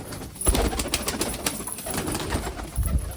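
A pigeon coos in its nest box, a few soft low coos in short bursts near the start and end, close by and quiet, with faint rustling between them.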